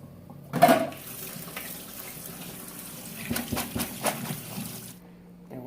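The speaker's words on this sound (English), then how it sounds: "what I need to do here is strain the other beans" A kitchen sink tap runs steadily while canned butter beans and kidney beans are strained and rinsed, with a splashy burst early on and a few clattering knocks of a colander or can near the end before the flow stops.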